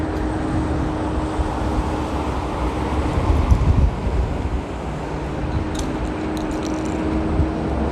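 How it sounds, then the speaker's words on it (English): Wind buffets a microphone outdoors along a street in Queens, New York, near a large cemetery. It makes a steady, loud low rumble that lasts the whole time, with a slightly stronger gust midway. No one speaks. "Feeling the wind right now."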